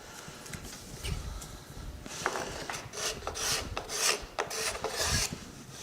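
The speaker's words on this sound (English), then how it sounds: "I'm going to make sure I scrape any glue residue there." A scraper rasps glue residue off a piece of old, dry wood, with irregular scratchy strokes close up that grow denser and louder toward the end, with no talking.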